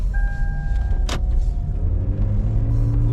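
Lexus CT200h hybrid accelerating at full throttle, a steady low engine and road rumble heard from inside the car, with a brief sharp click partway through.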